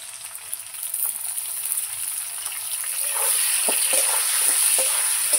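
Salted potatoes and onions frying together in a pan make a continuous bright sizzle that grows slightly louder, dotted with small crackles and light stirring clicks.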